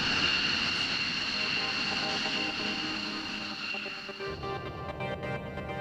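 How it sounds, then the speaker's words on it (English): A Lockheed X-plane jet flies past with a steady, loud engine roar and whine carrying high tones, fading slightly as it moves off, with no talk over it. "the Lockheed X-plane is back in the sky the very next day"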